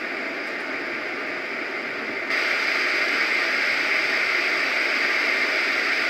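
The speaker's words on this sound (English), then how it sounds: "now we've moved on to white noise. So I'll go through the five different white noise samples" A Roffie N600 white noise machine plays a white noise sample, a steady, broadband hiss at moderate level that steps up slightly in brightness partway through, with no voices.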